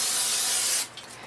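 Pam cooking spray hisses into a paper bowl in one steady, close burst lasting under a second, then cuts off to quiet room sound.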